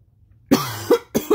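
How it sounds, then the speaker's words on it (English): A man clears his throat a few times in quick, close bursts, short rough rasps separated by brief pauses, with no talking around them. "I had to clear my throat there."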